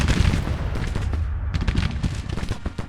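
Artillery cannon fire in the Civil War strategy game Grand Tactician, a rapid irregular series of booms and sharp reports, some overlapping, close and loud throughout.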